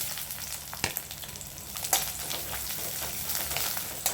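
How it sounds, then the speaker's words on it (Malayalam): Chopped coconut sautés in coconut oil in a pan while a Kerala chicken dish is prepared, a steady close sizzle broken by a few sharp crackles and stirring scrapes. "നമുക്ക് അല്പം തേങ്ങ അരിഞ്ഞത് ഇട്ട് വഴറ്റാം."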